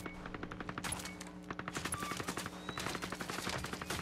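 Rapid automatic gunfire from an enemy shooting overhead in the Ghost Recon Breakpoint video game, a steady stream of sharp bursts filling the whole stretch at close range with no talk.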